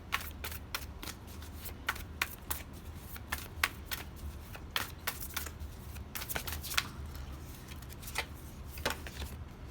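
Animal Oracle cards being shuffled by hand: quick, crisp riffling snaps and soft papery slides in an irregular rhythm, close and fairly quiet over a low background hum, with no speech.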